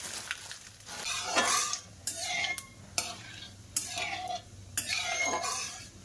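Dried red chillies and black cumin hit hot oil in a pan, crackling with a steady sizzle while a utensil stirs and scrapes in several bursts, with short clinks of metal against the pot.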